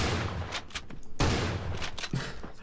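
Shotgun shots in the video game Creative Destruction, a few loud close blasts in quick succession with sharp broadband bursts.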